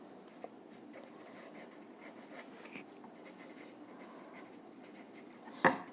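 Chalk or marker writing on a classroom board during a class 10 maths lesson on polynomials, a faint steady scratching with soft strokes throughout and a sharper knock near the end.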